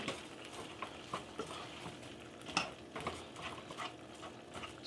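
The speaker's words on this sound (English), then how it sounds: "I'm going to brown this ground beef a few more minutes" Ground beef browning in a pan while tostadas are cooked, with steady soft sizzling and frying, occasional stirring scrapes and light clinks of utensil against pan, no talking.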